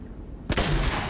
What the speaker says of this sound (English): This is probably the longest shooting shotgun I've ever seen.